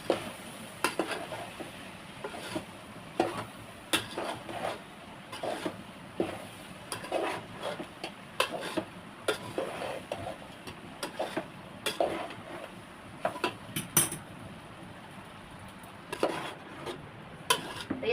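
Rice stirred in a pan for Chinese chicken egg fried rice, with frequent scraping clinks of a spatula on metal over a soft sizzle, irregular and close, without talk.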